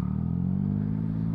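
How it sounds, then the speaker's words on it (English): Motorcycle pulling away as the clutch engages and the throttle opens, a short, close engine drone rising slightly with a faint clatter, no voices. "I'm just engaging the clutch, accelerating,"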